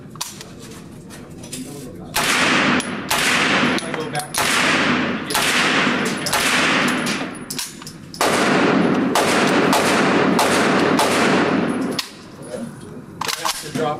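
Gunshots ring out at a shooting range, a rapid series of loud, close cracks with sharp echoing tails, fired one after another with occasional short gaps.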